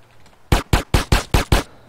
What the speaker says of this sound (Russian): Откуда стрельба?